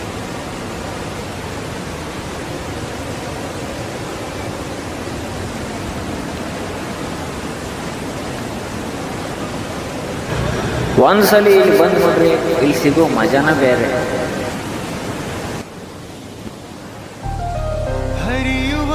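Godchinamalki waterfall near Gokak sends up a steady, broad roar of rushing water, louder and closer in the later seconds, with someone talking over it throughout.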